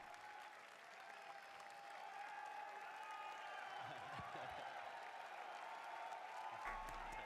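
Applause at the Xbox E3 press conference, a steady, dense wash of clapping from a large audience that holds throughout and swells slightly, with faint voices mixed in.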